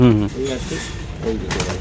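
A racing pigeon in moult gives a close, soft coo at the start and another brief coo later, with faint rustling and a voice murmuring nearby.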